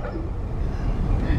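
A dog barks and yips in a big rural yard in small-town Oklahoma, short rough barks over low outdoor noise, fairly close.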